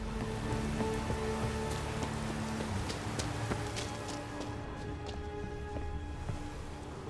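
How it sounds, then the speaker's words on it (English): Steady rain falls in a video game scene, a constant dense patter with scattered sharper drops and faint tones underneath, and no talking. "Looks like rain."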